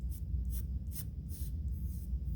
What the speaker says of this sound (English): what we're going to do is trace over all of the lines we have drawn